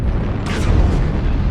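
Streak SRM6 missiles firing and exploding in MechWarrior Online, a loud booming burst over a heavy rumbling mech background, with a short whooshing blast rising in the middle.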